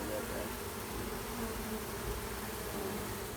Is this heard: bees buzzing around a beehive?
yes